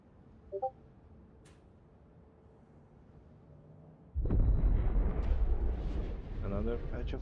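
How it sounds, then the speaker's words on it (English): Fireworks bursting in the Star Citizen video game: after a quiet stretch with a faint pop, a sudden loud cluster of booming explosions and crackling rolls on for several seconds, with a voice talking underneath. "Another patch of fireworks."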